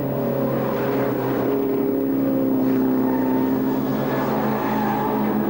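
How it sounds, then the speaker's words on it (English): Classic club race cars, led by a Triumph TR3A, set off on their first lap at Silverstone, a dense, continuous engine roar with layered droning tones rising and shifting steadily throughout. "Here's the second batch of cars being sent off on their first lap, led round by the TR3A of Malcolm Turnbull."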